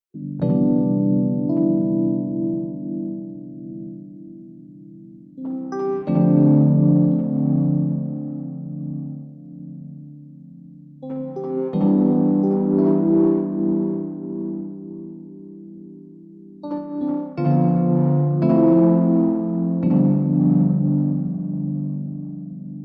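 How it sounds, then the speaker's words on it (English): Distorted, gritty synth chords processed through a lofi plugin's distortion effect play in four sustained phrases, each swelling and fading, with a crunchy, saturated tone and no voices. "let's dial in some of the distortion to see what that sounds like"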